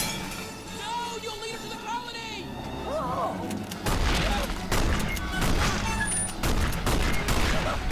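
Gunfire in a video being watched: bursts of shots and booming impacts, loud and dense in the second half, mixed with soundtrack music and effects.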